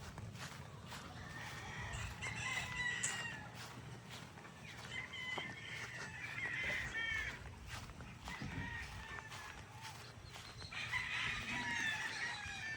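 Chickens, broodstags and pullets on a farm: several roosters crow at moderate distance over a steady bed of clucking and farmyard ambience, continuing throughout.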